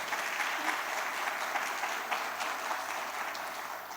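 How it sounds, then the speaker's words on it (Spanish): Steady applause fills the room at a regional nursing conference, a full, even round of clapping from the audience that holds for four seconds without a break. "Y el aplauso para ella"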